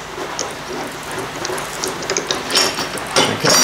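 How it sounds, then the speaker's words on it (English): A power drawbar on a Bridgeport-style milling machine engages to tighten an adjustable boring head in the spindle, giving a close, continuous mechanical ratcheting clatter that builds toward the end. "let's engage the drawbar"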